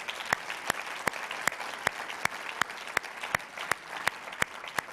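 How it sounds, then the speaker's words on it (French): A church congregation claps after a French-language sermon. A soft bed of clapping runs beneath a sharp, loud clap that repeats roughly every third of a second in a steady, metronomic beat. "Je pense que les autres, ça mérite une main d'applaudissement"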